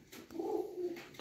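A rare pigeon gives a single soft, throaty coo, close by and brief, against a quiet background.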